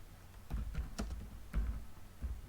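Close, quiet typing on a computer keyboard: a few soft, irregular key taps spread over a couple of seconds.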